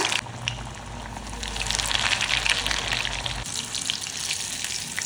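Chicken pieces deep-frying in hot oil give a steady, close bubbling hiss with a low rumble that drops away partway through, with no talking.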